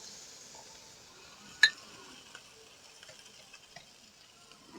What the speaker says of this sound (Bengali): এক চামচ লঙ্কা বাটা এবার ভালো করে ভেজে নেব